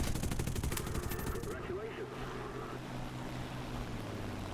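Machine guns of a P-51C-10 fighter plane in War Thunder, a quick rattling burst over the first second and a half that gives way to steady engine drone.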